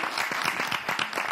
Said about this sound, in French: Alors, applaudissez d'abord pour moi.